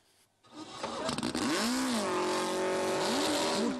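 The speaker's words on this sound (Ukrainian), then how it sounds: "Гуркіт моторів, човни розсікають хвилі та вправно маневрують між буйками" Motorboat engines roar at the Ukrainian powerboat racing championship as boats cut through waves around buoys; a loud, steady engine drone rises quickly and sweeps in pitch as the boats pass.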